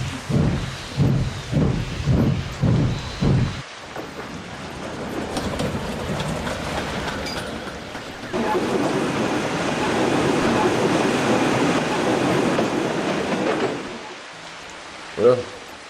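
A toy-style train engine rolls along a railway siding in a children's train story, heard as a rumbling, hissing wash of movement that swells midway and fades, following a short stretch of rhythmic puffing and ending on a brief clank.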